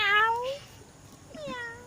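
A person imitating a cat, giving two drawn-out meows with a short pause between them, close and clear against a quiet background.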